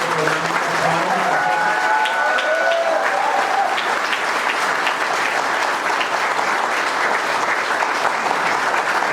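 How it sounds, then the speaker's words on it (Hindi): A crowd at a Hindi panel discussion on direct selling breaks into loud, sustained applause, thick continuous clapping that holds steady throughout, with a few voices rising over it near the start. "तो आइए एक बार हम जोरदार तालियों के साथ आज"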